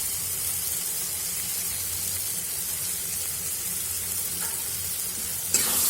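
Tomato ketchup and green chillies fry in a pan for pasta, giving a steady close sizzle and hiss that runs throughout without talk, with a small bump near the end.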